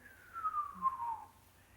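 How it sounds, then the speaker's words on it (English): A slow descending whistle from a dispersed fast radio burst, a single pulse gliding down in pitch over under two seconds, faint and alone with no voices. "it's a very slow whistle"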